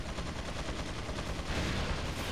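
Gatling gun in a video game letting off a dense, continuous burst of rapid fire that stays loud the whole way through with no talk.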